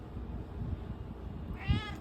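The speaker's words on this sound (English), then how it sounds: "You keep meowing. What do you need?" A single short cat meow near the end, fairly clear, over a quiet indoor background.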